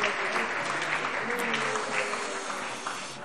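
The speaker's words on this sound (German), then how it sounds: "das ist ein Applaus" Applause in a German parliament plenary session, a steady, moderately distant clapping of many hands throughout, with a voice speaking faintly underneath.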